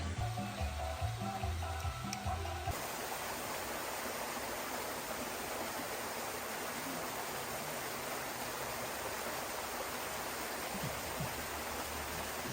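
A natural river flows in the Llanos of Colombia, giving a continuous loud rushing wash of water close by after a brief stretch of other sound at the start.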